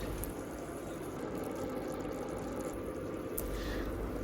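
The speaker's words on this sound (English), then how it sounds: "I always add a tiny splash of water when it sticks" Water splashed into a pan of frying onions and ground beef brings a steady, close sizzling hiss with a wet, bubbling texture, holding evenly from start to finish.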